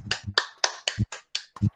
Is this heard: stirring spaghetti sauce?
no